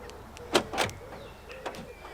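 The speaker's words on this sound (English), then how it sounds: "So we'll unlock the car." A Vauxhall Corsa D being unlocked, with a few quick mechanical clunks from the locks and a soft whir, close by and fairly faint against a quiet outdoor background.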